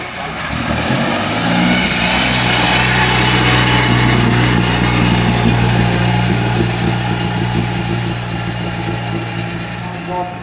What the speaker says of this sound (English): Yes, it sounds well as the motor does.